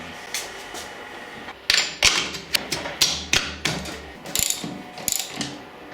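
Ratchet wrench clicking in quick bursts as front motor mount bolts are tightened on a 2007 Husqvarna TE250 dirt bike, close and crisp with a few thuds, no talking.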